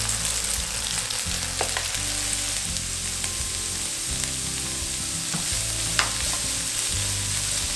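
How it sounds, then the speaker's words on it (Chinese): Carrots stir-fried in oil in a pan for a vegan carrot and egg dish, a steady close sizzle with scraping stir strokes and occasional clinks of the utensil, no voices. "然后一样把红萝卜先炒到软。"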